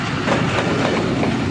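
The Thall Express passenger train rolls through a Pakistani railway station, a loud, close, continuous rumble with rhythmic wheel clatter over the rails.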